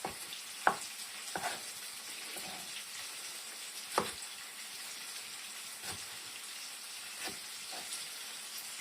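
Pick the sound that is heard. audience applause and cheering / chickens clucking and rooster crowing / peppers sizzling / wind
peppers sizzling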